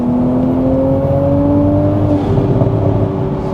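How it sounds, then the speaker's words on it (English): Toyota GR Supra with a titanium exhaust and aftermarket intake revving to around 5,000 rpm, a loud, close engine whir rising in pitch and then easing back with light burbling as the revs fall. "So if I give this a little rev up to 5k, you can hear all the burbles"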